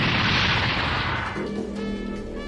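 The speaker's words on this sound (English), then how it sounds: "that's one heck of an explosion" A loud explosion in the Super Robot Wars V video game booms across a broad noise burst for about a second and a half, then decays as tonal game music and effects rise beneath it.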